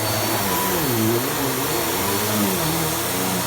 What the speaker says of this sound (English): that noise, I think that might be either a problem with the height adjuster or the belt